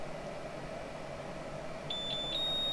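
Three short high-pitched electronic beeps from the bed leveling sensor of a Flashforge Guider II 3D printer come in quick succession near the end, over a low steady hum.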